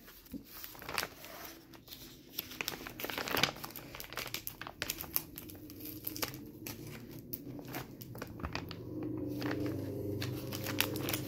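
A taped paper package from the Philippines is torn open by hand, with close, continuous crinkling, ripping and rustling of paper and tape through the whole stretch, the rustle thickening toward the end.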